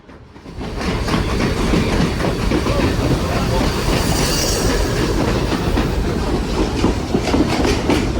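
Union Pacific Big Boy 4014 steam locomotive hauling a train past the Oak Street crossing in Pittston Township, a loud, steady rumble of rolling cars with rhythmic clickety-clack from the wheels that holds close for the whole stretch.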